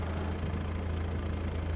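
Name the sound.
Kubota M6 tractor engine idling in video game Farming Simulator 22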